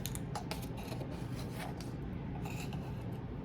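Quiet, rapid scratchy scrapes as a measuring spoon of baking powder is leveled against the lip of the can, soft and close with no talking.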